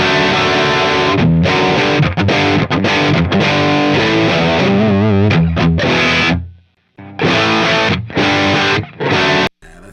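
Heavily distorted electric guitar played through a PT100 amplifier, loud close riffing with chugging chords and brief stops, cutting out near the end before a few final hits.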